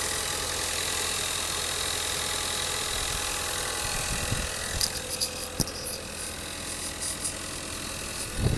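A Lincoln MKZ with the 2.0 EcoBoost engine idles nearby in a smooth, steady low drone, with a few faint clicks and knocks later on and no talking.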